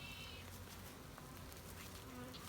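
Honeybees at an open hive in spring drone a steady, dense buzz throughout, with individual bees passing close and a faint frame-handling click mid-way.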